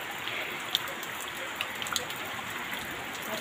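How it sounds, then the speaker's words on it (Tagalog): Steady, moderate rain falls during an overnight flood, an even hiss with occasional droplet taps, with no voices. "Maulan pa rin, magdamag na nag-uulan, pero hindi naman sa ngayon hindi naman gaano kalakasan, pero patuloy pa rin ang pag-ulan."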